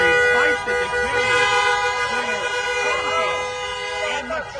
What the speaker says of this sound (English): the honking and the cheering is as loud as could be down here on Center Street